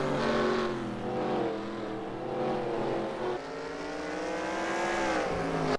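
Race cars in an SCRL race at the Chili Bowl circling the track, engines droning and rising in pitch as they accelerate, a continuous layered roar of several cars, with no talking.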